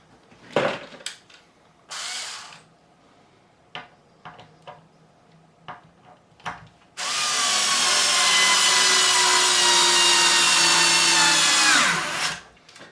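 Power drill driving screws into the bridge of a Japanese-made Schecter guitar during a bridge repair, first a few short bursts and light taps, then one long loud continuous whirring run that winds down at the end.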